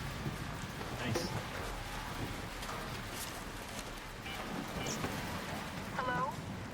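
Steady heavy rain pours through an electromagnetic storm in the game Arc Raiders, with low rumbling thunder and faint scattered tonal chirps running through the constant wash.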